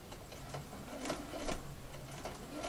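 A sewing machine stitches bias binding onto a curved seam, a quiet rapid mechanical whirring with soft rhythmic clicks and brief pauses, close and alone.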